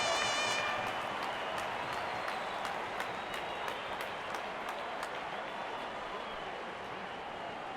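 Crowd at a Mumbai Indians vs Rajasthan Royals cricket match applauding a boundary: a dense, steady wash of clapping and cheering from a large stadium audience, loudest at the start and then settling into sustained distant applause.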